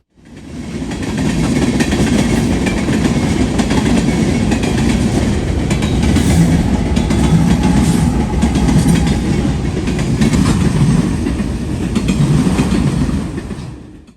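A long freight train with two mid-train locomotives, an SD70ACE and an AC44C6M, rumbles past nearby in southwest Ohio, with steady clickety-clack of wheels on rail joints and a continuous heavy roar throughout.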